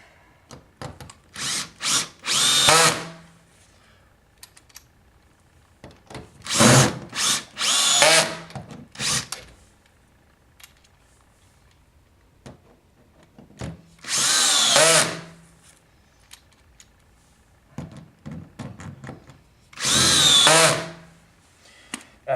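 A power driver runs screws in to surface-mount a lock on a horizontal surface, four loud separate whirring bursts spaced a few seconds apart with quieter handling noise between them.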